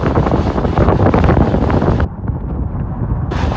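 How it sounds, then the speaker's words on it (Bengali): Loud, constant wind roaring across the microphone during a storm on Kaptai Lake, with choppy water and waves underneath a rocking boat. "প্রচন্ড বাতাস, ঢেউ।"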